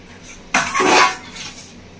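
A metal lid lifted off a cooking pot of ridge gourd and prawn curry, one sudden clattering clank followed by a brief rushing hiss that fades within a second.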